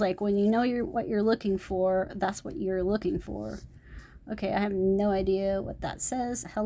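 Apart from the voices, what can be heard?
No everyday noises stand out.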